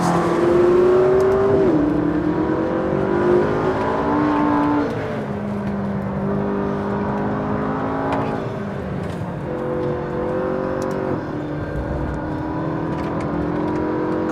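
A McLaren 650S sports car is driven hard on a track, its engine loud and close, with a strong high drone that rises and falls through gear changes, easing off partway through before pulling again.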